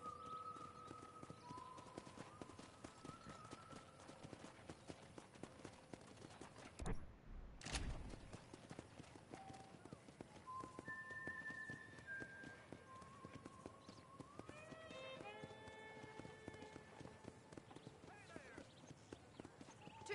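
Steady rhythmic clip-clop of horse hooves in the video game Red Dead Redemption runs throughout, with tonal voices speaking over it and a brief sharp crack partway through.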